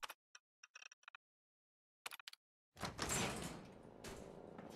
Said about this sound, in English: I'll just open the door.